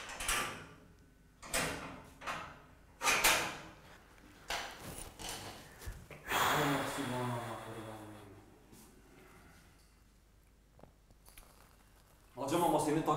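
A detention cell door in a jail opens with several sharp metallic clanks and a longer scraping slide, close and fairly loud, with people talking around it.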